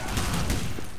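Rapid, dense bursts of gunfire from a Soviet roleplay shooter game, loud and continuous with overlapping shots throughout.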